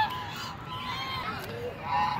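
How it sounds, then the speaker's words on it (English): Waterfowl gathering for food at Karachi Zoo honk and call in a noisy, overlapping cluster close by, with faint background sounds beneath. "There is a duck as well, a white duck."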